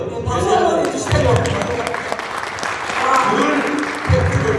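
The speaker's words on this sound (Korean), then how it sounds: "박수 한번 해주세요." An indoor audience breaks into sustained applause at a Korean lecture, dense clapping swelling and holding steady while a speaker's voice carries on over it.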